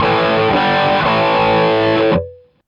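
An electric guitar played straight into an amplifier strums a thick, buzzing chord that rings for about two seconds before it is abruptly cut off.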